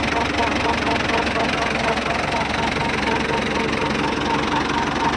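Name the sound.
Ford T3 tractor engine with knocking gearbox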